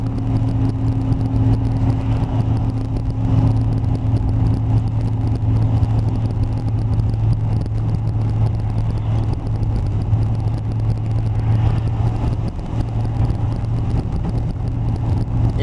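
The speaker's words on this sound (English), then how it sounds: "Man, the highway, 215-15 as they call it, heading south. Man, traffic's backed up for miles." Backed-up highway traffic heading south on Interstate 215/15, a steady low engine rumble of slow-moving cars and vehicles passing close by, continuous and fairly loud with no talk.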